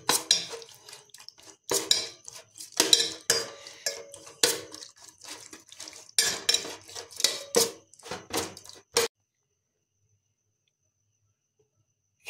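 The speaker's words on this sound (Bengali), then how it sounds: "এখন আমরা চামচ দিয়ে ভালোভাবে এটাকে সুন্দরভাবে মেখে নেব।" A spoon clinks and scrapes against a bowl while shrimp are mixed with mustard oil and ground spice paste, producing irregular close-up knocks and wet scrapes for about nine seconds before stopping into silence.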